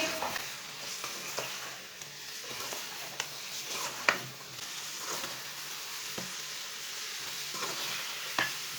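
Chicken masala with about a cup of oil is mixed in a pan, a spoon scraping and knocking now and then over a low, continuous sizzle, close and quiet.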